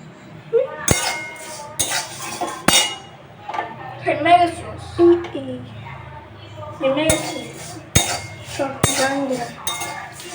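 Dishes and cutlery clink and clang sharply several times at close range while food is served into a bowl, a few distinct strikes between quieter handling, with people talking throughout.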